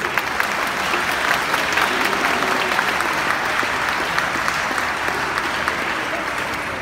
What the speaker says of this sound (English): So can we clap for all those parent guardians who have been here?